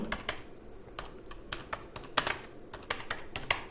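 Typing on a computer keyboard during data entry in an Excel spreadsheet: a close, uneven series of crisp key clicks, about a dozen strokes with short pauses and one firmer tap, alone with no talking.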